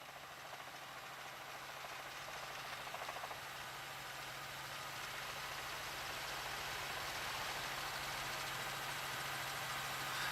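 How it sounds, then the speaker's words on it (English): A police helicopter's rotor and engine drone steadily overhead during a police chase in Phoenix, a continuous low thrumming hum that grows slightly louder toward the end. "And they're up over it, the Firebird helicopter."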